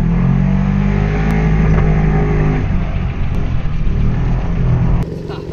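A motorcycle engine drones loud and close, revving hard and holding steady throttle for a wheelie on a straight road, then cutting off abruptly near the end.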